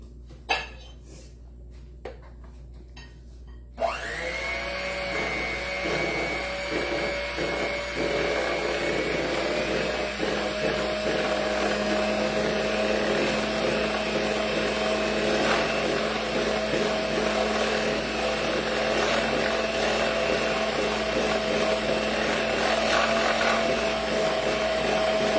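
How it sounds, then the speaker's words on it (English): A small electric hand mixer whirs into life after a few quiet knocks, then runs steadily and loudly while whipping cannoli filling, its beaters clattering faintly against the bowl. "I just plugged in my little mixer."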